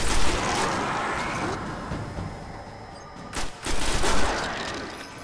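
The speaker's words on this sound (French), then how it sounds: "Qui me tire dessus là." Gunfire in the video game Destiny aimed at the player: steady, mid-distance shooting crackles throughout, with two sharper bursts late in the clip and a voice underneath.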